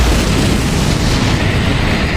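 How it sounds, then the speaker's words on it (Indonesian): A loud, sustained explosive boom with heavy rumbling that fills the whole moment, no speech. "Terdengar ledakan"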